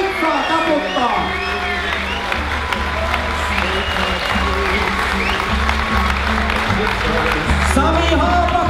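A hall audience on an end-of-season pesäpallo cruise claps and cheers for Finland's best pesäpallo players, a dense, sustained round of applause with voices mixed in.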